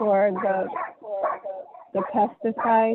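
A dog barks indoors during a Board of Health meeting, its yips and barks mixed in with close, continuous talking.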